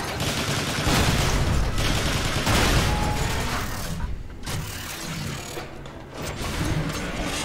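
Sustained rapid weapon fire from Transformers: War for Cybertron as locks sealing Energon power cells are shot apart, a loud, dense barrage of bursts with mechanical clatter and booming impacts and a few brief pauses.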